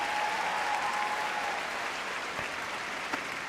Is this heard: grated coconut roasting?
no